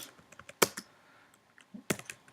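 Someone types a command on a computer keyboard: a handful of quick, close, crisp key clicks in two short bursts with pauses between, fairly quiet and with no voice.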